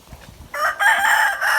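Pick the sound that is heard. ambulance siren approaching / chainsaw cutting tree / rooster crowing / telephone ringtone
rooster crowing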